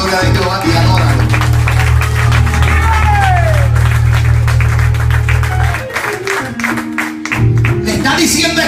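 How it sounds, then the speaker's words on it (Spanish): A church congregation breaks into sustained applause and cheering, with a steady low instrumental drone beneath and a voice speaking over the crowd near the end. "Denle un aplauso a la gloria de Jehová y adóralo."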